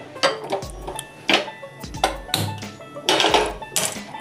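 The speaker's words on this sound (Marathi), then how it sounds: "आता मी जी फोडणी करणार आहे, त्यासाठी मी टोप हा गॅसवर ठेवला आहे।" A metal cooking pot set down on a gas stove in a home kitchen, several sharp clanks and knocks in uneven succession, close and fairly loud, with no talking.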